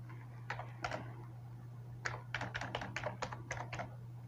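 Password typed on a computer keyboard, quiet close key clicks in short bursts with pauses between, over a steady low hum.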